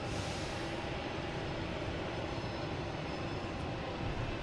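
Jet airliner engine roar at Boston Logan Airport, a steady, loud, broadband rumble that holds for several seconds without a break and carries no speech.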